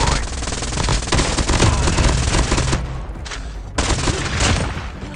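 Gunfire in the mobile shooter game Call of Duty Mobile, with dense, loud bursts of rapid shots filling most of the stretch, a short lull, then more firing.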